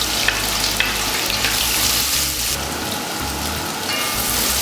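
Curry leaves frying in hot oil for a Malaysian Indian chicken curry, a loud, close, steady sizzle with dense crackling and a low hum underneath, no voices.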